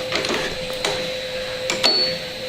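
An 1860s Pratt & Whitney rifling machine's ratchet mechanism working, giving a few sharp mechanical clicks and knocks over a steady whine, close by and alone.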